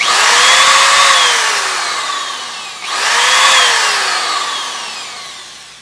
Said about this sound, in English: Okay, let's start the drill. By the way, it will be loud.